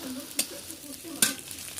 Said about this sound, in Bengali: এরপর কড়াইতে আবার একটু তেল দিয়ে এর মধ্যে পেঁয়াজ মরিচ কুচি দিতে হবে